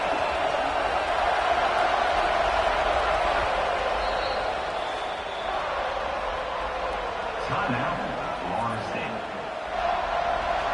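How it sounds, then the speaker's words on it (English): Stadium crowd at a college football bowl game roaring steadily to urge the defense on for a third-down stop, a dense sustained wall of cheering with shouts rising over it. "The crowd elevating its energy, willing this defense to get a stop on this big 3rd down."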